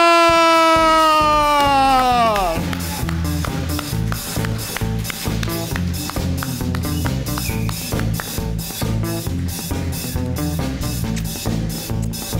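A studio audience claps as guest Efe enters a Turkish TV talk show, following a rising musical sting; steady broadband applause with rhythmic music beats continues loudly for about ten seconds.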